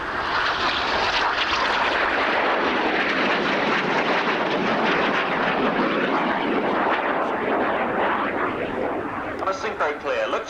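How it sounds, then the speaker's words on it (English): Aerobatic jets roar past during an opposition barrel roll at the RAF Scampton airshow in 1989, a loud, sustained, wide-band engine rush that holds steady before fluttering and fading slightly at the end, with an announcer's voice over it. "let's watch now as they position to come towards each other for the opposition barrel roll"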